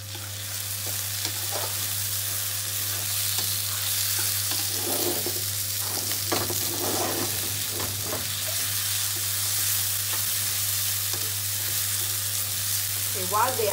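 Fresh turmeric and tomatoes cook in a pan for mutton liver masala. A steady sizzle runs throughout with scraping stir strokes in the middle, over a low constant hum.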